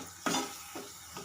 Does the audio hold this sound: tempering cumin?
yes